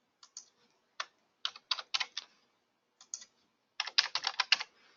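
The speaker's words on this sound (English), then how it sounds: "So let's just type in an address." Someone types a property address on a computer keyboard in short bursts of crisp, close key clicks, a few scattered taps followed by a quicker flurry near the end, with no speech.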